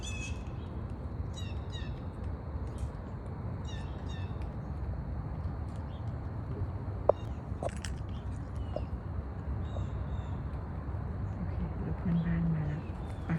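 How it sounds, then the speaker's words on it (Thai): Scattered gobbling and clucking calls from turkeys in front of a house in the United States come in short bursts over a steady outdoor rumble, with one sharp click midway. "ไก่งวงค่ะ ที่นี่เยอะมาก มาจากไหนไม่รู้เนี่ยมาหน้าบ้าน"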